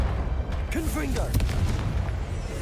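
A Confringo fire spell goes off in Hogwarts Legacy as a deep, rumbling boom with crackling bursts, heard under a voice speaking briefly and game effects whooshing.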